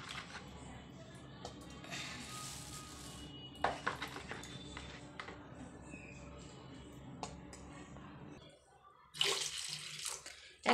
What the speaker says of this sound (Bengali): তো এখন ডিমগুলোকে একটু ধুয়ে নেব।